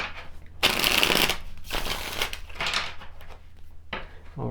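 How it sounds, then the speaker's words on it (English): Tarot cards are shuffled in several close, crisp bursts of riffling and slapping, separated by short pauses. "I think we'll do one more shuffle here and see what comes forward"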